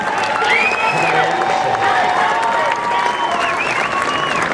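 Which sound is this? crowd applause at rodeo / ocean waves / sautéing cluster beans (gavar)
crowd applause at rodeo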